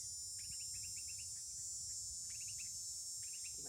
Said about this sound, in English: You might hear the cicadas up in the trees here